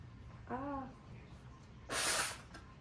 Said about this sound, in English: gonna have to blow my nose